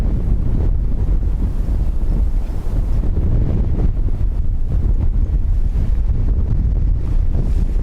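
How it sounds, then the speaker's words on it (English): Strong gusting wind buffets the microphone at Dublin Airport, a loud continuous low rumbling roar that never lets up, with no voices. "Wind is just too strong."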